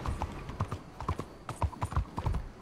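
A horse's hooves clip-clop in Red Dead Redemption 2 as it walks through a town near a saloon at night, in an uneven series of moderate, fairly close clopping steps with no speech.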